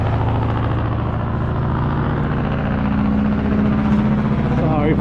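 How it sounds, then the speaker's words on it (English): A tractor trailer truck rolls past on a road beside a hiking trail, its heavy engine a steady, loud, low rumble that holds for the whole stretch without letting up. "There's a tractor trailer coming by."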